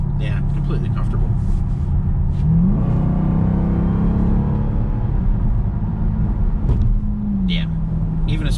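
2021 Dodge Durango Hellcat in sport mode accelerating hard, its supercharged engine building into a deep, steady roar that rises in pitch and then eases off, heard from inside the cabin.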